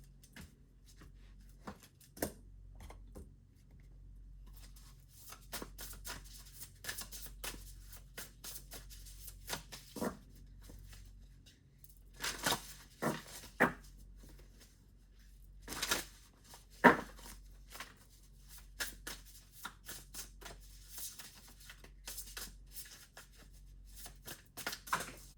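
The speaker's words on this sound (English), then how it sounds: "So I'm actually going to pre-shuffle now, and I'll be right back." Tarot cards being shuffled by hand, a run of soft papery riffles and sharp slaps that come in irregular bursts, close and fairly quiet against a still room, with no talk.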